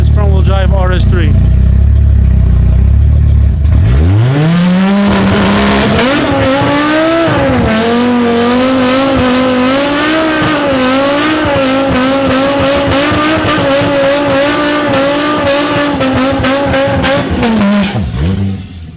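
A 1000+ horsepower front-wheel-drive Audi RS3 launches on a drag strip with loud tire squeal and a hard-revving engine. The engine note rises through the gears for roughly fifteen seconds, with people talking underneath.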